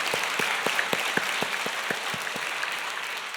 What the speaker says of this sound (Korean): 하나님 아버지께 영광의 박수 올려드리겠습니다.